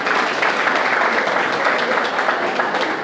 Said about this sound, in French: Monsieur Colonel Campbell, je vous demande de l'applaudir très très fort